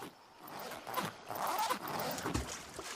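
A zipper rasps open in Super Mario Odyssey, a loud, close, drawn-out tearing sweep that lasts a couple of seconds with no talking over it.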